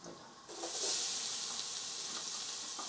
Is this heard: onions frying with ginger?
yes